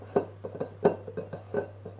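A utensil stirs génoise batter in a bowl, working out a lump of flour with a steady series of soft scrapes and clinks against the bowl, close and quiet over a low electrical hum, with no talking.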